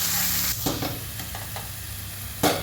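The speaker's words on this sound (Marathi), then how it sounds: "कांदा छान भाजून घ्यायचा आहे." Chopped onion frying in a pan for chicken kheema, a steady close sizzle with a few soft stirring scrapes and a spoon knock near the end, no voices.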